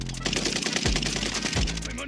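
Rapid automatic gunfire in Call of Duty Warzone crackles in a dense, continuous burst, close and loud over game background effects.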